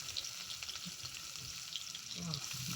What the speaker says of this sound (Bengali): একটু গরম করে ভেজে নেব।